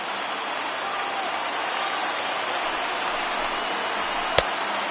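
A baseball video game plays a steady crowd roar from a stadium of 31,000 as fans rise for a two-strike moment, with a broad, even cheering wash and one sharp crack near the end.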